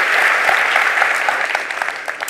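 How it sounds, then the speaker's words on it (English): Audience applause for keynote speaker Jonathan Lister at the Content Marketing World 2013 conference, a brief dense burst of clapping filling the hall. "Can you hear a round of applause for Mr. Jonathan Lister?"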